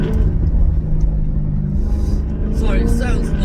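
A Maserati GranTurismo S fitted with a Larini exhaust revs with a deep, loud, continuous engine rumble and throaty exhaust note, rising slightly toward the end, close by with no talk.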